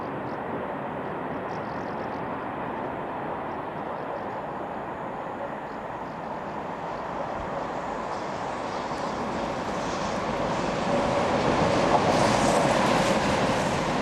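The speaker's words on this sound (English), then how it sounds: "this unidentified Class 26000 heads this lengthy northbound liner" A Class 26000 electric locomotive hauls a lengthy northbound liner train past at evening, a continuous steady rumble of rolling wagons that swells slightly louder toward the end.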